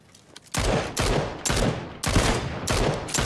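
Bursts of automatic gunfire from PUBG, five loud rapid volleys about half a second apart, each a dense rattle of shots close up.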